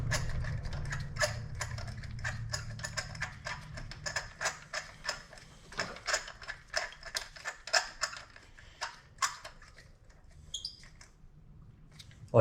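A hand ratchet tightens new spark plugs on a 2.0-litre four-cylinder Kia Optima, giving a fast run of close, crisp clicks that slows into separate clicks and then stops.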